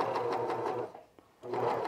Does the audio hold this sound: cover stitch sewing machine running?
yes